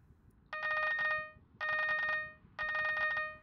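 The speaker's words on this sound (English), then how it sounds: "So now I want you to use the Abby phone to call the dean." The Abiphone in the Minecraft game Hypixel Skyblock rings three times while placing a call. Each ring is a rapid, trilling electronic bell burst of about a second, separated by short gaps and clear against near silence.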